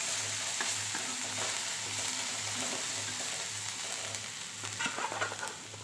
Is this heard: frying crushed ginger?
yes